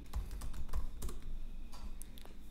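Keystrokes on a computer keyboard while typing a WhatsApp message, a quick irregular run of close, soft clicks with short pauses between bursts and no talk.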